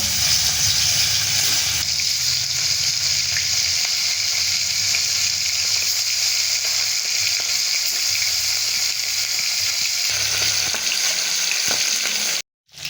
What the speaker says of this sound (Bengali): তেলটা আমার গরম হয়ে গেছে এবার আমি মাছগুলো ভেজে নেবো